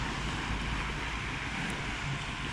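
Ocean waves wash in at a beach in Pranburi, a steady broadband roar of surf mixed with wind across the microphone.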